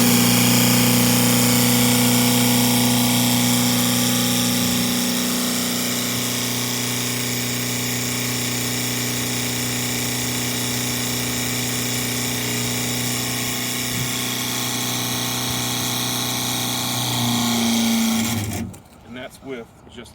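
Gas-powered roof pump spraying roof coating through an RB65 gun, a steady droning engine-and-pump whine with constant tonal hum running loud for about eighteen seconds before cutting off abruptly.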